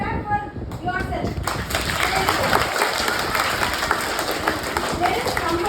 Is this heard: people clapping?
yes